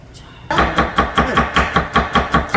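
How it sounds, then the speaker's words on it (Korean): A knife chops green onion on a cutting board in a steady, rhythmic run of about ten close, crisp strikes, each one sharp and evenly spaced, with no talking. "이렇게 썰어줍니다."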